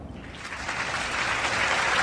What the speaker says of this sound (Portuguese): Salva de palmas para a Polícia Militar